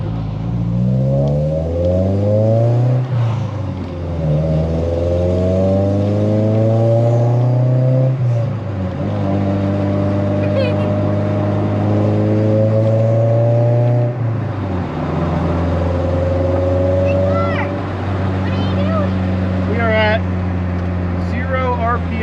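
A Honda Civic engine revs hard from inside the car while driving, loud and close, with repeated rising sweeps through the gears and brief drops between shifts, then climbing again, with no talk.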